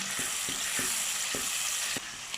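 Small prawns frying in a pan, a steady hiss of oil with soft periodic stirring taps about every half second, close and continuous with no voices.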